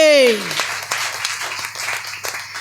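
A church congregation claps loudly in a dense, continuous burst of applause right after a voice finishes speaking.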